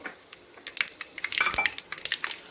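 Mustard seeds spluttering and popping in hot oil, cooked for a Tamil fish kulambu: many light, crisp crackles scattered irregularly, thickening into a dense cluster midway, close and fairly faint with no talking.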